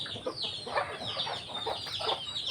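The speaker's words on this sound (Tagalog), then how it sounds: "yung mga dati nating mga manok" Several chickens cluck and chatter softly at moderate distance, a steady scatter of short calls.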